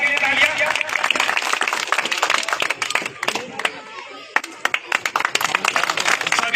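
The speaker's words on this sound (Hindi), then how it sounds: "तो जोरदार इनके लिए तालियां।" Crowd applause for volunteers being honoured at a ceremony after a 5 km running competition, dense continuous clapping from many hands with voices mixed in, briefly thinning before swelling again.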